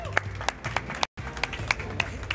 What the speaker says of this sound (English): So please, a round of applause for Yajiji.